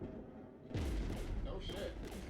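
Gunfire in the video game Mass Effect 3, a sudden heavy burst of booming shots and rumbling impacts breaking over a quieter lead-in, loud and close.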